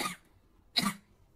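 Two short coughs from one person, close and fairly faint, with a quiet pause between them.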